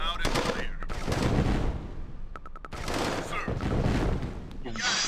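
Artillery fire in the video game Tiberian Sun, bursts of rapid loud gunfire and blasts with short gaps between them, mixed with voices and game sounds.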